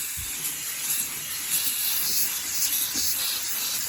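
A Harbor Freight steam cleaner works on the dirty carpet of a Jeep Liberty, giving a steady, close hiss of steam and spray that runs without pause, with no speech.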